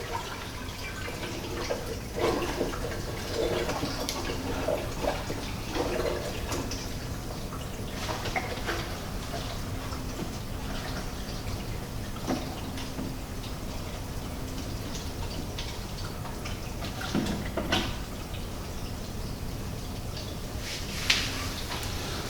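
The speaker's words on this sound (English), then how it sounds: "Now I'll put the filter socks back in to start filtering out some of this crap that's being churned up" Water trickles and drips steadily in a reef tank as filter socks go back in, a continuous close wash of splashing with scattered small drips throughout.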